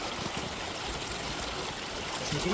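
A mountain stream flows with a steady, broad rushing wash of water, close and continuous throughout, without any voices.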